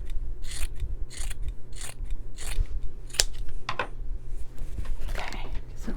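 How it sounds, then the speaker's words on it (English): Scissors snip repeatedly through a terry cloth baby bib, a steady series of crisp close cuts about every half second over a low background hum. "let me just do a little trimming of this"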